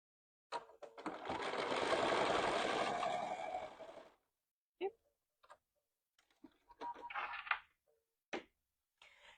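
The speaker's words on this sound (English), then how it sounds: "Line it up and stitch it down." A sewing machine runs close and loud for several seconds as it stitches quilt binding flaps, then stops, leaving scattered clicks, fabric handling and a short burst of low background voices.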